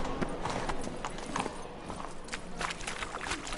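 In the Witcher game, hooves clop in a brisk trot as the horse Roach moves along, a close, even rhythm over a busy background with a few faint sounds around it.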